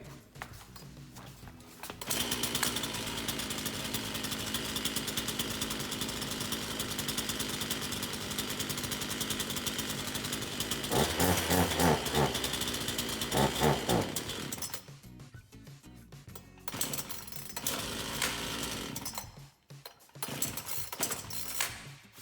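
A Husqvarna 125 chainsaw with an empty tank and dry carburetor being started, giving a long loud steady engine roar up close that falters and cuts out near the end.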